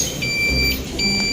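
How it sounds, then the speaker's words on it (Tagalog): An FKM Venture 150 motorcycle's anti-theft alarm chirps close and loud in two short electronic beeping bursts, steady high tones separated by a brief pause. "Yan, nag-a-alarm siya. Yan yung alarm key system niya."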